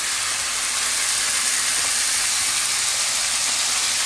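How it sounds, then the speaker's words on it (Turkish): Steady, dense sizzling hiss of meat searing in oil in a hot pot over high heat, continuous and fairly loud throughout with no pauses. "Şimdi burada eti mühürlüyoruz."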